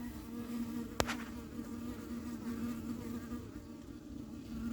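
A steady, dense buzzing of many bees close by at an apiary hive fitted with a feeder block, with a brief sharp click near the start.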